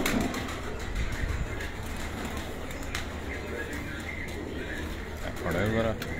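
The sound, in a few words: pigeons cooing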